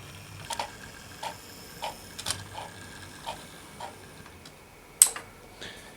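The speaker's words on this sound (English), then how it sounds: "You can hear the chuffing a little bit there as well." Hornby Class B12 model steam locomotive running on track, giving faint, light rhythmic ticking chuffs at a steady pace, with one sharper click near the end, quiet and close.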